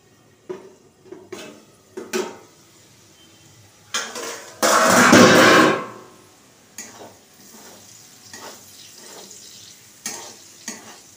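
Potato and onion chowmein stirred in a pan, with several short scraping clinks of a utensil against the metal and one louder burst of sizzling in the middle, close and without voices.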